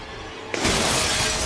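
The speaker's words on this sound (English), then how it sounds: "he just slams through the glass to try to get to the bottom of this" A chair is slammed through a glass pane in the show Mountain Monsters, giving a sudden crash followed by a sustained, bright shower of shattering, tinkling glass.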